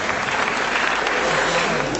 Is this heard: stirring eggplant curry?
no